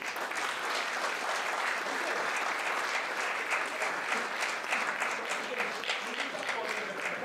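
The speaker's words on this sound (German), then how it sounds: "Auch ein Applaus." Applause at a charity gala in Frankfurt, Germany, welcoming city councillors; a large seated audience claps in a dense, even wash at a steady moderate level throughout, with no talking heard over it.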